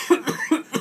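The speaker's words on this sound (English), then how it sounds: "If I'm coughing" A man with a cold coughs four times in quick succession, close and fairly loud, each burst short and harsh, with no talking.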